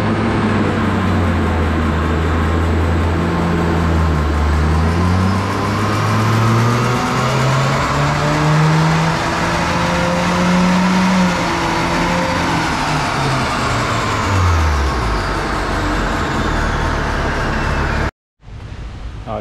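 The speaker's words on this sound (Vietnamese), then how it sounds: "Giờ mình sẽ tiến hành chạy dyno để test lại." MG 5 1.5 car on a dyno after an ECU stage 1 remap, engine revving loud and close, pitch climbing and falling through gear-like sweeps for over fifteen seconds before cutting off abruptly, no talk.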